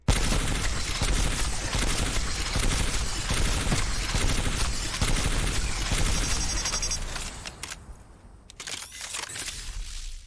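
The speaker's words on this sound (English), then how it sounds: "I found the best way to use the L star is to do burst. Spam the fire button 5 times" Rapid bursts of energy-weapon fire from the L-STAR in the Apex Legends video game, dense repeated shots crackling nearly nonstop and loud, then thinning out into a few scattered blasts near the end.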